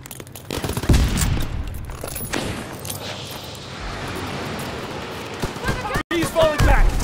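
Gunfire in the World War II shooter Call of Duty: WWII, with repeated sharp shots and bursts during a battle, mixed with game noise, a brief cut near the end, and a distant voice shouting.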